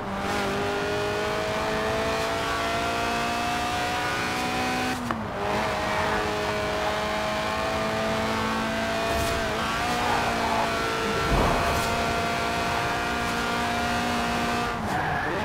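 A Lotus Elise Sport 190, a tuned, stripped-out mid-engine rear-drive track-day roadster in Forza Horizon 4, drones steadily at high revs with rising gear pulls and brief dips between shifts, close and loud with no talk.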